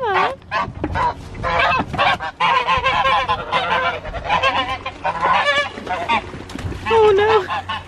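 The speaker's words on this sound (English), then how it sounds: "Oh, we are beautiful white geese." A group of white geese in a farm enclosure honk loudly and almost continuously at close range, overlapping nasal calls with little pause and faint talk beneath.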